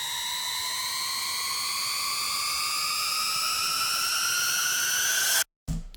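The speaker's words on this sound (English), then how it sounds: "Then for the builder we have this riser coming in." A synth riser for a trap beat build-up glides steadily upward in pitch as a bright, buzzing harmonic tone, loud and unbroken, then cuts out abruptly near the end before a brief return.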